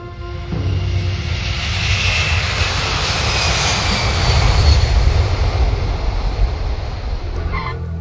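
A Blackbird military jet passes overhead, a loud, steady broadband engine roar that swells slightly toward the middle and holds for about eight seconds with no talk.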